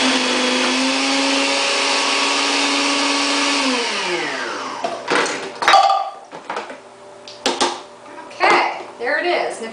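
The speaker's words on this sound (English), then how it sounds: "Let's see if this is small enough to feed through the food processor." Food processor motor whirring steadily as red cabbage is fed through and shredded, then winding down with a falling pitch before a few clunks and someone speaking nearby.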